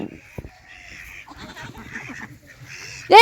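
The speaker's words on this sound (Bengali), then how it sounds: "কত হাঁস দেখো এখানে পুকুর পাড়ে হাঁসগুলো চলছে" Honking, quacking duck calls at a village pond bank come in scattered bursts over quiet outdoor ambience, ending with a sudden loud close squawk.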